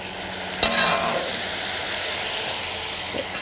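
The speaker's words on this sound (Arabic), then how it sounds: "ودلوقتي هبتدي احط شوية من المرقة اللي حضرنا فيها" Broth is poured into a hot pan of apples, setting off a loud, close sizzle that starts with a sharp hiss and then settles into steady frying crackle.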